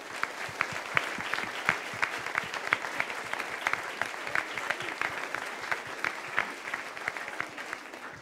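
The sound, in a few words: audience applause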